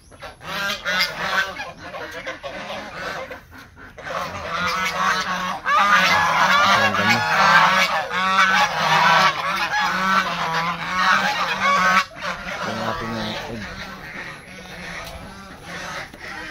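Geese on a Philippine backyard farm honk loudly and continuously, a dense overlapping chorus of calls close by that swells and stays busy throughout.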